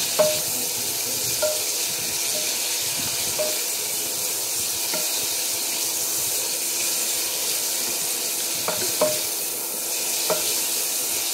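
Rice noodles (bihon) fry in hot cooking oil for miki bihon guisado, giving a steady, close sizzling hiss with occasional small clicks and pops throughout.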